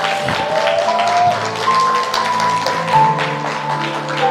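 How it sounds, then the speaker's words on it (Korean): A church congregation at a conference applauds, making a fairly loud, steady wash of clapping that runs for several seconds over sustained background music. "여러분 큰 박수 부탁드립니다."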